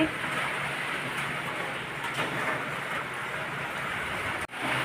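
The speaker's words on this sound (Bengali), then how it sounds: "কেমন বৃষ্টি পড়ছে দেখো।" Steady, heavy rain falls continuously without letup, a dense even hiss that stays close and loud throughout, with a brief dip near the end and no talking.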